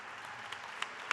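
Audience applause at a technical school graduation ceremony, a steady wash of clapping from a crowd with a few sharper individual claps standing out near the end.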